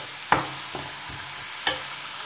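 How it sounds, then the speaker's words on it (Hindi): Chopped onions fry in a pan with a steady sizzling hiss, broken by a few sharp scraping clicks as a utensil stirs them. "अब इसको डाल देती हूँ। इनको हल्का सा ब्राउन कर लेते हैं"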